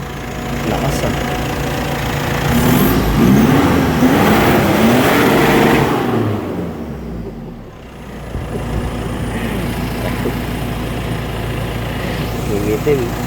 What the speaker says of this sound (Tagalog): Ayun, umandar na mga idol. Palang tambuso na.